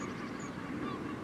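Ducks quacking in a square on the west side of Amsterdam, a steady dense flock chatter close by over a low background hum of distant traffic.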